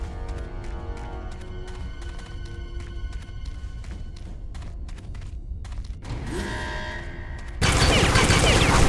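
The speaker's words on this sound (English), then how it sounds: "Drawing fire from an unmanned turret station." An unmanned turret station in Secret Service fires in rapid, regular bursts of sharp cracks, closely spaced over several seconds. A louder wash of noise then swells and takes over at the end.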